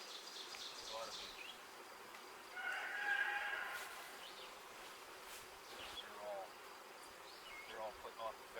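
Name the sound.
honey bee swarm fanning and buzzing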